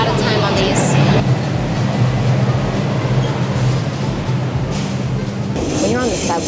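Loud, steady rumble of a New York City subway express train in motion, with continuous low roar and rattling carriage noise throughout, and brief voices or squeals near the start and end.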